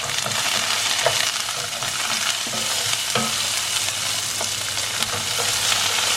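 Sliced onion frying in a pan with curry leaves alongside lamb chops, giving a steady close sizzle with occasional scraping stirs throughout.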